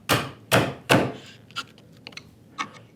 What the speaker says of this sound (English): So I usually go with a narrower chisel when I start to clean out the mortise hole